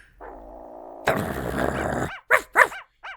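A dog in a video game barks and growls, a low snarl followed by several sharp, loud barks in quick succession, standing alone with no talk over it.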